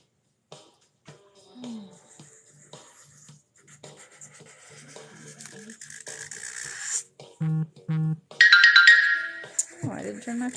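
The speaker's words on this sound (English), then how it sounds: "Oh, I didn't turn my phone down." A phone ringtone chimes out in bursts of bright tones during a live-streamed rune-drawing session, rising louder toward the end among small scratching and clicking handling noises.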